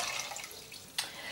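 Water being poured into a saucepan while making a gelatin pudding dessert, heard as a brief steady liquid hiss with one short splashy burst near the end, close by with no talk.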